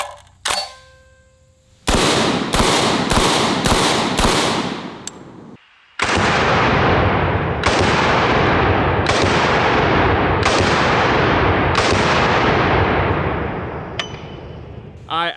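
A Typhoon F12 semi-auto 12 gauge shotgun fired outdoors: a quick string of five loud blasts, then after a pause five more spaced shots, each with a ringing decay.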